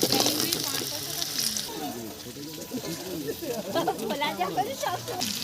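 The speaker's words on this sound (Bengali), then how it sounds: "তেল গরম হয়ে গেছে শুকনো লঙ্কা ফোড়ন দিলাম কালো জিরে ফোড়ন দিয়ে দিচ্ছি" Potatoes, onions, dried chillies and nigella seeds sizzle and crackle in hot oil in a pan at moderate volume while a person talks over the cooking.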